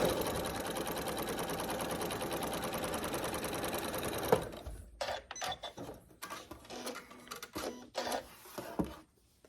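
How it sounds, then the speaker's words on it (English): A sewing machine sews a straight seam with red thread on a fall table-runner quilt top, running as a loud, continuous close whir for about four seconds, then stopping, followed by scattered handling clatter and fabric movement. "I am just going to start stitching right on that line"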